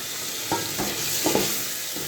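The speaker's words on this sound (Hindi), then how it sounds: "आलू डाल के एक बार इसको हिलाएंगे अच्छी तरह" Diced potatoes are stirred in a hot pan, with a spatula scraping in a few quick strokes over a steady oil sizzle, close and continuous with no talking.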